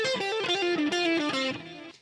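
Fast electric guitar lick, a song intro played at full speed, bright sustained notes with distortion running in a quick descending line, loud and alone before fading out.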